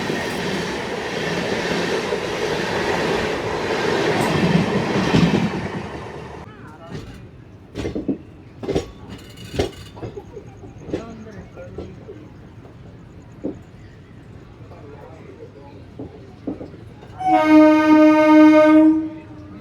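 An express train (17243, Guntur to Rayagada) rumbles loudly along the rails, then thins into scattered wheel clacks and rattles before a long, sustained horn blast sounds near the end.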